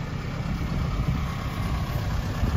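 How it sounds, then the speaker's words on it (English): Tractor engine running on a homestead while wood is being moved, a steady low rumbling drone close by that continues without pause. "You can see that he has the tractor going"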